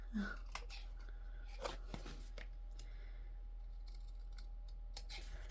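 Several crisp snips of scissors cutting a small paper tag, irregular and close, over a steady low hum with faint movement between cuts.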